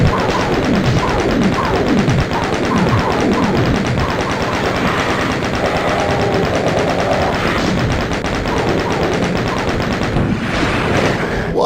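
Chaingun-wielding enemies fire at the player in Doom's The Plutonia Experiment, producing loud, continuous rapid bursts of automatic gunfire with deep booms mixed in, sustained throughout with no talking.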